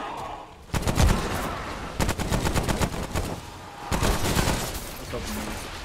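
Gunfire in the video game Remnant: From the Ashes, loud rapid bursts of automatic shots in two long volleys with a brief pause between, dense and close.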